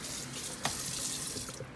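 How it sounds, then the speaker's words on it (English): Cold tap water running steadily over drained pasta in a kitchen sink, a soft continuous splashing hiss with one brief knock partway through. "I'm gonna throw a little bit of cold water to stop the cooking."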